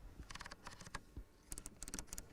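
Quiet, rapid clicking of a knurled climate control knob being turned in an Audi RS Q3, a quick series of small clicks, a pause, then another run, faint and close.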